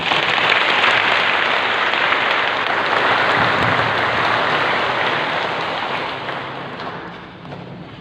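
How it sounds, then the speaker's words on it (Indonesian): Congregation applause at a Catholic priestly ordination of Carmelite deacons, a dense, steady wash of many hands clapping that fades slightly toward the end. "mari kita beri tepuk tangan yang mulia"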